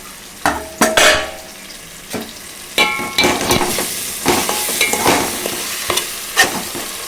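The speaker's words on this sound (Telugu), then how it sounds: "మొత్తం మంచిగా కలిపేసుకొని మూత పెట్టుకోవాలండి. చికెను కలుపుకోవాలండి." Chicken curry being stirred in a pan, with sharp irregular scrapes and clinks of a utensil against the metal over a light sizzle, close and loud, no talking.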